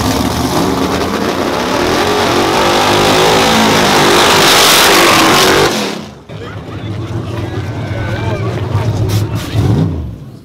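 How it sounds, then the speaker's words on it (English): A loud rush of fast traffic roars past on a highway, then cuts off abruptly, followed by a quieter passing vehicle and some talking. "And these cars are fast."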